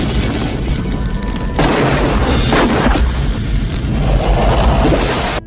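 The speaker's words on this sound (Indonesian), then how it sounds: "John dan Frank terlibat baku tembak sengit" Heavy booming blasts in an action film gunfight, dense and continuous with sharp bursts layered over a thick rumbling bed, loud and close, with no speech.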